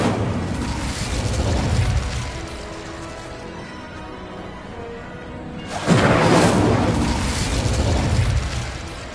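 An Incendio fire spell bursts in Hogwarts Legacy combat, a loud whooshing explosion erupting after a quieter stretch and rumbling on for several seconds over earlier blasts.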